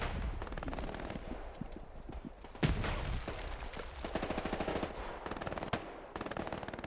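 Grenade blast in the Hell Let Loose World War II shooter, amid dense rapid machine-gun fire and gunshots, with one sharp loud burst standing out from the constant crackling combat.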